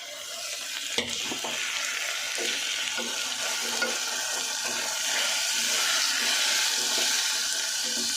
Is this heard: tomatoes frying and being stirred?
yes